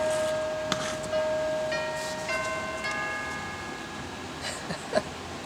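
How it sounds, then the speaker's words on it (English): A shop doorbell chimes several times with ringing, sustained tones that overlap and fade, against a quiet background. "Somebody's ringing the bell for my shop."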